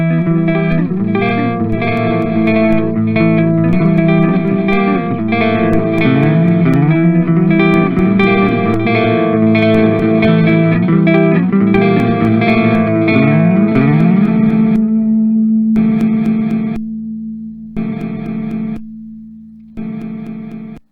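Shimmering, heavily processed synth chords smeared by a gravity granular reverb with probability drive, sustained and dense, then choppy stuttering fragments cutting in and out toward the end.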